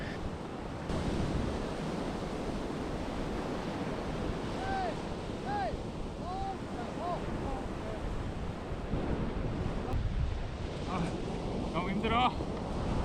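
Rough winter ocean surf at a beach, a continuous heavy wash of breaking waves with wind buffeting the microphone, while faint distant voices and calls float over the roar.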